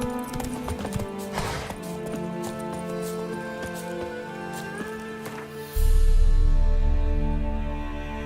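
The horse Roach gallops in The Witcher 3, with rapid rhythmic hoofbeats close by and a brief whinny early on, then a sudden low rumble swells in near the end.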